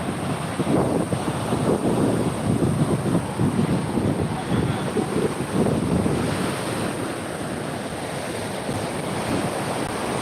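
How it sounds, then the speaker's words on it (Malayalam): Sea waves surge and wash steadily onto the shore at Azhikkal beach, a broad rushing roar mixed with wind buffeting the microphone. "കടൽ ഇങ്ങനെ കയറി കിടക്കുകയാണ്"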